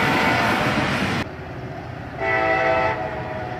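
A freight train passes with a Canadian National Zebra unit trailing. Loud rumbling rail noise is joined by a sustained horn blast that cuts off and then returns, close by.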